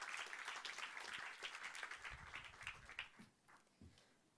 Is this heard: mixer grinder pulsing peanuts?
no